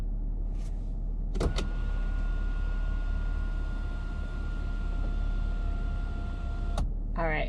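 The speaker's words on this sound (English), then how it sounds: "then you have your wind deflector on top here to close." The electric wind deflector on a BMW M340i's sunroof closes as a steady motor hum inside the car, with a couple of short clicks near the start and a clunk as it stops near the end.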